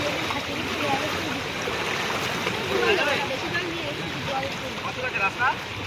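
Floodwater flowing in with a steady rushing wash that runs throughout, while people talk over it nearby in an outdoor setting during a flood.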